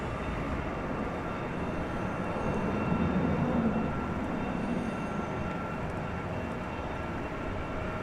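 Airliner taxiing at DFW airport at night, heard as a steady, distant engine rumble and broadband roar that swells slightly midway, with no voices.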